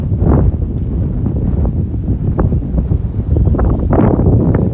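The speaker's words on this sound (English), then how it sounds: "A very windy day today here" Strong gusty wind at the waterside on a street in Phuket buffets the microphone with loud, uneven low rumbling roars that swell and ease in repeated bursts, close and harsh, with no voices.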